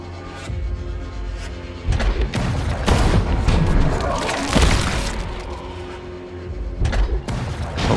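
Mortar explosions in Deep Fringe, a grimdark post-apocalyptic biopunk strategy RPG: repeated heavy booms and crashing impacts pile up in a dense, loud barrage, with brief gaps between hits.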